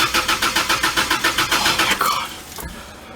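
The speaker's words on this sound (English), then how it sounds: "I go to start my car." A Honda Integra engine cranking without catching, a fast regular chug of the starter for about two seconds, then it stops and leaves a low hum.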